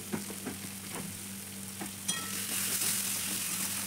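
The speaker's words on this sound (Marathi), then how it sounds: "कांदा आपल्याला चांगला लालबुंद सोनेरी रंगावर येईपर्यंत परतवून घ्यायचा आहे।" Onions fry in a pan until golden, giving a constant crackling sizzle under a low hum. Light stirring taps come through, and the hiss swells brighter near the end.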